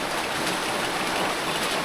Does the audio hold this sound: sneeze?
no